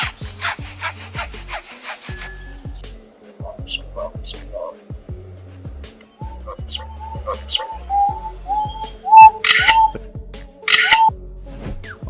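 A mimicking bird, likely a lyrebird, reproduces a saw cutting wood: repeated rhythmic rasping strokes with scattered chirps and whistles in a natural setting, fairly close and clear.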